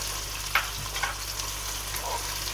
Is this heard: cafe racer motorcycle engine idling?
no